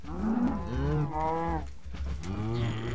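Repeated cow moos in Minecraft, loud and close, with three drawn-out lowing calls separated by short gaps, heard alone without talk.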